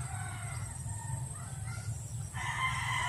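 A chicken calls faintly in the distance outdoors near a hut, over a steady low outdoor hum, with a slightly brighter call near the end.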